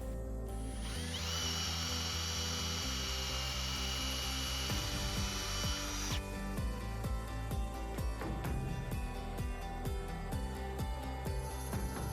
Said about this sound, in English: I'm pre-installing the screws to make it easier.